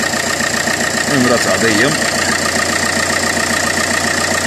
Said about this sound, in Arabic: الموتور الضربة ديالو راسية